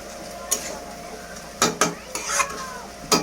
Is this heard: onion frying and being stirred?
yes